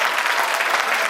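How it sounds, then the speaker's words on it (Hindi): Steady, dense applause from an audience at a stage performance, continuous and fairly loud throughout a short burst, with no voices above it. "तो जोरदार तालियां"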